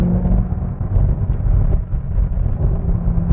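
Supercharged 6.2-liter V8 of a 2010 Corvette ZR1 revving under hard acceleration, a loud, steady low rumble that holds strong throughout with no talking.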